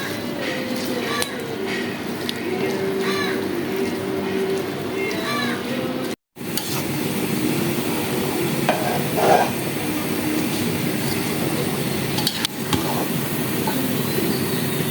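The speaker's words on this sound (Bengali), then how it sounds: "এখন আমি এটাকে খুব ভালো করে মিক্সড করে তারপরে ঢেকে দিব একদম।" Pulao rice for beef biryani is stirred and mixed in a pot, with continuous scraping and soft sizzling, a short gap midway, and a voice talking over the first part.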